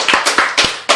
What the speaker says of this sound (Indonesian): Dan kita beri tepuk tangan dulu untuk Kak Fahad Balher